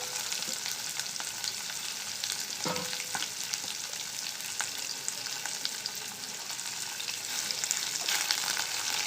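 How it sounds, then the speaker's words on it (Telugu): Onions, garlic and curry leaves frying in tempering oil with mustard and cumin seeds, a dense, continuous close sizzle with light stirring scrapes and no talk. "ఆవాలు జీలకర్ర వేగుతూ ఉన్నప్పుడే ఉల్లిపాయలు, వెల్లిపాయ, కరివేపాకు కూడా వేసేసుకున్నాము."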